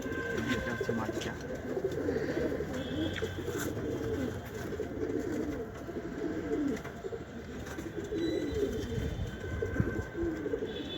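Khoira-neck pigeons cooing softly at a breeder's home in Lalbagh, low repeated coos mingling with faint chirps and background murmur.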